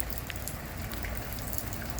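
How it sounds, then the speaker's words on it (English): Steady rain falls over a garden with zinnias and lettuce, a dense, even hiss of drops close by with scattered sharper pattering, no voices. "Loving the rain."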